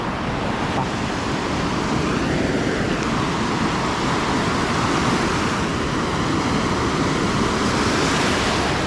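Sea waves break at My Khe Beach in Da Nang, Vietnam, during the rainy season. The surf is a loud, continuous, close wash of broadband roar mixed with wind, with no voices.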